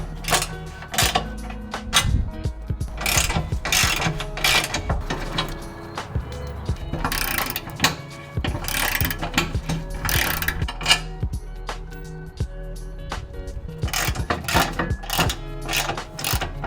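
A Torx T40 ratchet clicks rapidly as four bolts come off the oil filter plate of a Ford SVT Roush Raptor, with repeated bursts of close metallic ratcheting and clanks throughout.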